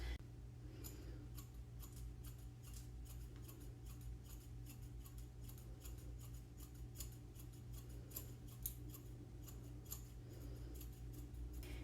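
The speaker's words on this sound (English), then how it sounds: "So you're going to point cut this longer area and just feather that out a bit." Scissors snip repeatedly while point cutting and feathering longer layers of hair at home, a quick irregular run of close, crisp clicks over a steady low room hum.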